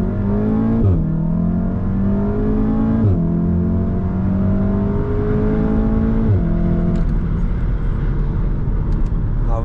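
A Golf R Mk7 accelerates hard through its gears, the engine climbing loudly in pitch with quick drops at each upshift, heard continuously and up close from inside the car during a daytime drive.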